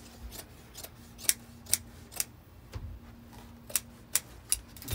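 Scissors snip through carpet while fitting it into a cargo van, giving about a dozen sharp, close clicks at an uneven rhythm over a steady low hum, with no talk.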